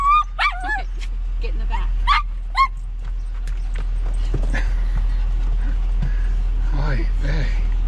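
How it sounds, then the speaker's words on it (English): A dog gives several sharp yips and barks, then whimpers and whines close by, with a person talking over it and a low steady hum underneath. "Crazy dog."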